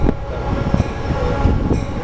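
A train rolls through Fullerton station in a loud, close, continuous rumble with faint rhythmic clatter from the wheels, and no talking.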